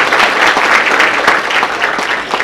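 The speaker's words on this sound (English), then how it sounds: "Can you give her a huge round of applause?" Audience applause for a poet at a community gathering, a steady, dense wash of clapping from a crowd, sustained and fairly loud throughout.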